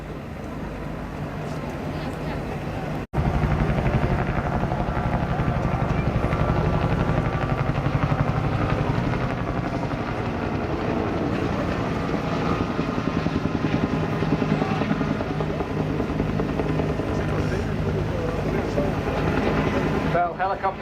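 A Bell UH-1 helicopter flies past at the Blackpool airshow, its rotor and turbine giving a loud, steady drone that starts abruptly and runs without a break for about twenty seconds.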